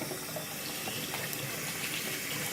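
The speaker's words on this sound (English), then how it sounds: "now for the water portion, you turn your water on" Water runs steadily from a household tap, a constant close hiss and splash with no voices.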